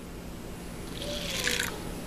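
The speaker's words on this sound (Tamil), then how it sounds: "கொஞ்சமாக இது அப்படியே மூழ்கிற அளவுக்கு தண்ணி ஊற்றணும்." Water poured onto a small bowl of sago pearls for sabudana upma, a soft trickle that swells in the second half with a light splashing patter, close and fairly quiet.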